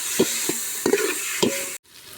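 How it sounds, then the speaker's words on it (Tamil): Ginger paste sautés with onions, tomatoes and green chillies for a home-style chicken biryani: three spoon scrapes and taps over a low, soft sizzle, then a brief drop-out near the end. "இஞ்சி பேஸ்ட் நல்லா வதக்கணும்"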